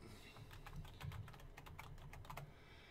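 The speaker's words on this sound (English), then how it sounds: "And then I would put in the username information about this user." Username being typed on a computer keyboard, heard as a quick, irregular run of soft key clicks close up in a quiet room, with no one talking.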